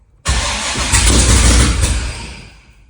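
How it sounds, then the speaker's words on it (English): Engine start on a ProCharged LSX-swapped C6 Corvette Z06, cranking and catching abruptly into a loud, dense roar that holds steady before settling and fading toward idle, heard up close with no talk. "I've actually went ahead and I started the car"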